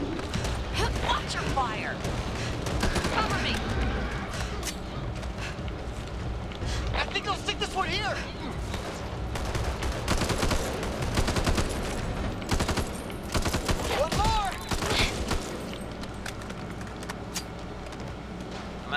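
Rapid bursts of automatic gunfire and explosions in the zombie shooter game Back 4 Blood, loud and nearly continuous, with players shouting over the shooting throughout.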